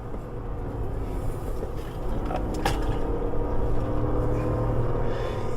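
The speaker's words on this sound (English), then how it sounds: "I hope you can hear that V8" Lexus GX460 V8 pulling hard in second gear, a steady low engine drone that builds slightly in loudness as it accelerates, heard from inside the cabin.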